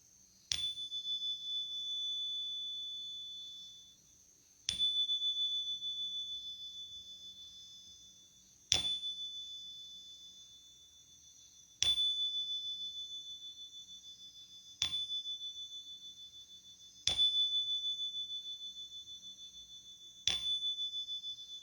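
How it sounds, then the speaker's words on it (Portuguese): A small meditation bell is struck seven times at slow, fairly even intervals, each clear ring sustaining and fading before the next strike, alone in an otherwise quiet room. "vamos tocar o nosso sininho"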